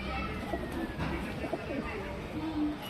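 Pigeons kept for sale from an old breeding line give soft, low cooing calls, faint beneath a steady wash of background noise.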